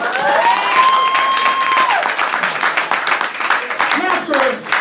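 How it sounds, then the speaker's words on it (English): An audience at a poetry slam in Orlando, Florida claps and cheers, a loud, close wash of applause with a few whoops, while a brief sung or sustained vocal tone rides over the first two seconds. "Applaud the poetry."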